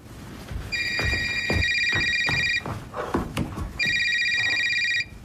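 A telephone rings in two long electronic trilling bursts separated by a short gap, fairly close and loud, with shuffling and clatter underneath in a shop setting.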